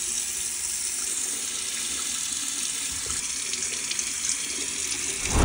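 Tap water runs steadily and loudly over a Dimora silicone foam dressing on an arm, a constant splashing rush that continues without pause.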